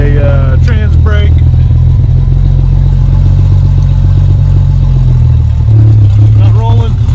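A Ford Thunderbird SC's engine held against the transmission brake, a loud, steady low rumble with a deeper, heavier drone toward the end and light mechanical clatter throughout.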